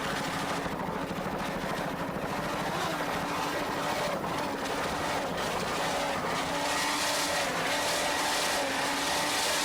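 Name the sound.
offshore powerboat racing, 900 horsepower Stotler engines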